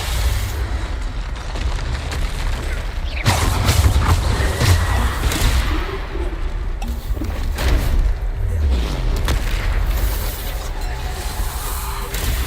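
Bombarda blasting spell in a video game, with a few heavy thumping explosions and rumbling impacts amid ongoing game noise, while a person talks over the action.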